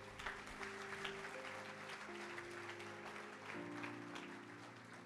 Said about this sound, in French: Acclamons Dieu très fort.